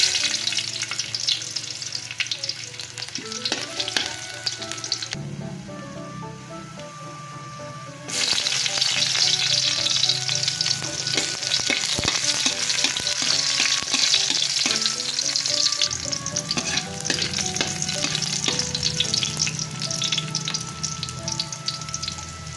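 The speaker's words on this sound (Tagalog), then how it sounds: "magigisa lang tayo ng bawang at sibuyas" Garlic and onion sautéing in a pan, a loud, steady sizzle that dips quieter for a few seconds and then surges back brighter, with scraping stir strokes and no voices.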